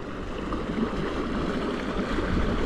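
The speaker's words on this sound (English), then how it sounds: "there's a lot of water splashing here" An Old Town kayak pushed at full throttle by a NewPort NK300 trolling motor, at about 5 mph, throws up a continuous rushing splash of water that holds at a steady, fairly loud level throughout.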